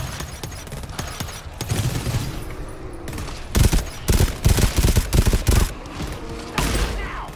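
Gunfire in the co-op shooter GTFO, a few shots early, then rapid bursts of loud automatic fire in the middle section, with heavy reverberant background rumble between them.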